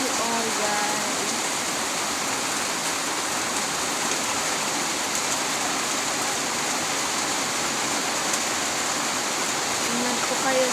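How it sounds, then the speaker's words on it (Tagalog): Heavy rain pours down in a steady, dense wash of noise that holds loud and unbroken throughout, with faint indistinct voices underneath. "Sobrang lakas na naman ng ulan guys."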